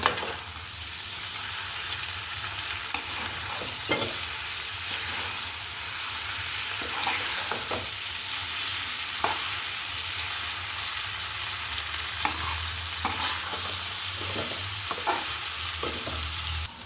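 Noodles crackle and hiss as they are stir-fried in a pan, with a continuous loud sizzle broken by periodic scraping and tapping of the utensil.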